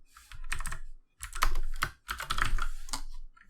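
Steady typing of code on a computer keyboard for a Unity game script, close and clear, coming in three bursts of rapid clicky keystrokes with short pauses between them and no talk.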